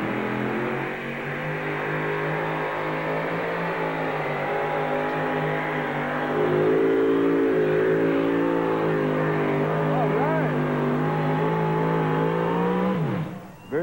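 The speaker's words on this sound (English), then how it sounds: "We're going to see if this little old yellow truck can get on down this road right here" A little yellow pulling truck at the 1998 Dairyland Super Nationals drones on a wet track, its engine note holding steady then climbing in pitch midway as it strains on, heard from a distance with no talk over it.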